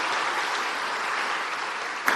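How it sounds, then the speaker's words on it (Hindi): Loud, dense applause from a large audience at a National Girl Child Day event honoring girls, a steady wash of clapping with no voices, ending in one sharp louder clap. "जरा ताली बजाए तो जोर से बजाएं"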